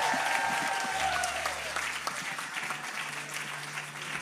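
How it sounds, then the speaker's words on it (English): Applause from an audience at an Israeli event, a moderate crowd clapping steadily at some distance and slowly thinning out, with faint background tones and no clear speech. "Big round of applause."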